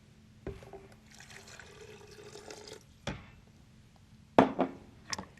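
Water poured into a blender jar for a salad dressing of dill, olive oil, maple syrup and avocado, a soft steady trickle followed by a few sharp knocks and splashes.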